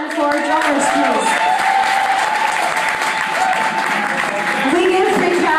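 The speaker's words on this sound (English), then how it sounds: "Another round of applause for our drummers, please." A crowd at a bomba drumming event in the South Bronx claps steadily in sustained applause, loud and close throughout, with a voice speaking over it.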